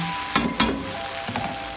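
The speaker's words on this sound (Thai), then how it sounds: "ผัดไฟอ่อนๆผัดไปเรื่อยๆนะคะผัด" Pork pad see ew noodles stir-fried in a wok over low heat, a soft continuous sizzle broken by a few scraping clacks of the spatula against the pan.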